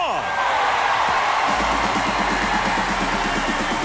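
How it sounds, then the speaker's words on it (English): A spring training baseball crowd at a Baltimore Orioles versus Detroit Tigers game roars in a broad, sustained wash of cheering after a home run, steady and loud throughout, with a voice talking over it. "That's a great way to fire up this crowd. They're feeling it now."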